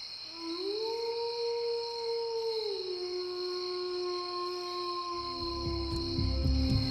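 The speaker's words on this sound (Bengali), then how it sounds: "আর দূরে কোথাও শেয়ালের ডাক।" A lone jackal gives one long, wavering howl from deep in a forest at night. It sounds distant and holds its pitch for several seconds over a steady high hum of crickets.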